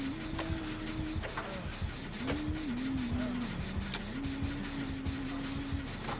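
A generator being repaired in the video game Dead by Daylight gives a continuous mechanical rattle and whirring hum, with a wavering tonal drone and scattered clicks, steady throughout at moderate level.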